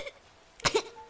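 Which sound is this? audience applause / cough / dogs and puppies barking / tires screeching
cough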